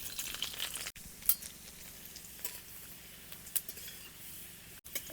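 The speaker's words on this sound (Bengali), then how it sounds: "কড়াইতে সর্ষের তেল দিয়ে দিলাম তেল গরম হয়ে গেছে রসুন কুচি দিয়ে দিলাম অল্প পরিমাণে" Chopped garlic fries in hot mustard oil in a wok, giving a soft, steady sizzle with faint clinks and stirring scrapes throughout.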